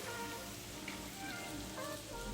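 Chicken cordon bleu laid into hot oil in a sauté pan, giving a steady, dense, rain-like sizzle that stays even throughout.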